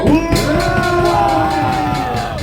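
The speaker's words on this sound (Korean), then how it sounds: "김준일 교수에게 큰 박수 한번 해주십시오." Crowd at an outdoor patriotic rally in Gwanghwamun cheering and shouting, a dense, loud wash of voices with some clapping mixed in.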